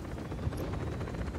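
A helicopter in the action video game Just Cause 4 gives off a steady, loud, low rotor and engine rumble with a faint rhythmic chop, filling the short moment without any talk.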